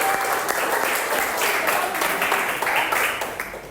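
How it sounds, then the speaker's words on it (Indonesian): Applause fills a university lecture class, steady dense clapping from the students that runs unbroken and fairly loud throughout before tapering slightly at the end. "Tepuk tangan dulu, beri aplaus untuk."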